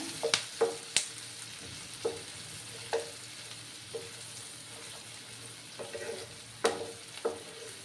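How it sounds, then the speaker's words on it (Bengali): Jackfruit seeds and taro stolons being fried in a pan with turmeric, with a faint steady sizzle and a series of clear clinks and scrapes as the spatula stirs, no talking. "ভালো করে আমি এবার ভেজে নেব যাতে করে কাঁঠালের দানাগুলো একটু সফট হয়ে যায়"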